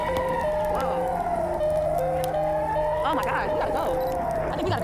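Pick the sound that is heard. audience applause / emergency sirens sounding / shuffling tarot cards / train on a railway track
emergency sirens sounding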